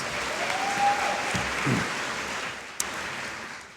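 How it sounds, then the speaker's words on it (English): Audience applause at a graduation ceremony, broad steady clapping that slowly fades, with a couple of brief louder thumps partway through. "Give yourself another round of applause"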